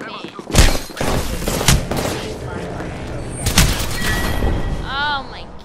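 Gunfire in the video game Apex Legends: loud bursts of shots and booming impacts up close, layered with game effects, including a rising tonal sweep near the end, while a player talks over the action.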